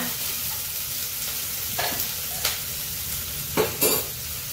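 Onions sizzle in a pan for a vegetable thali, with a soft steady frying hiss broken by several sharp scraping stirs of a utensil against the pan.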